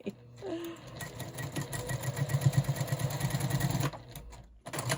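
A sewing machine stitching quilt block pieces together runs in a close, steady mechanical whir with rapid rhythmic needle thumps, starting and stopping briefly at the ends.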